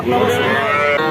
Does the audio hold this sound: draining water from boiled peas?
no